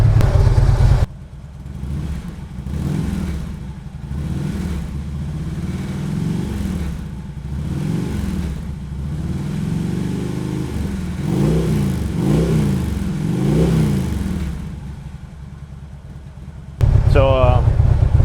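Motorcycle fitted with a Vance & Hines Monster Oval exhaust accelerating, a sustained low engine rumble that rises and falls through repeated throttle swells, fairly close, ending with a brief louder burst.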